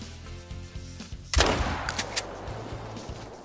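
A single loud rifle shot rings out in theHunter: Call of the Wild as a deer is fired on at about 22 meters, a sharp blast whose echo trails away over quiet game ambience.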